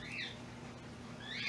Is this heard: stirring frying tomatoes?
no